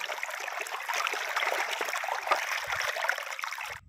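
Irrigation water flows into a sesame field, rushing and trickling steadily outdoors, a continuous moderate babble with no talk, ending abruptly.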